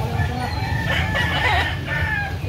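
A rooster crows close by in one strained, wavering call, with other hens clucking and a low engine-like rumble underneath.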